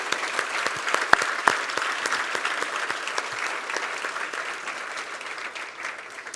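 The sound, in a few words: applause for award semifinalists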